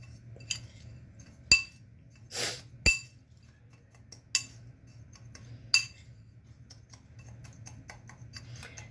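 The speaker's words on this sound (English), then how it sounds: "And then I'll stir it evenly." A utensil stirring ground ginger and brown sugar in a bowl, giving a handful of sparse, sharp clinks against the bowl over a quiet background.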